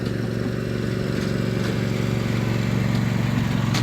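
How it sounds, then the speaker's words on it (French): Tractor engine droning steadily as it drives past, a continuous mid-pitched rumble at close range with no speech. "On va peut-être juste laisser passer le tracteur."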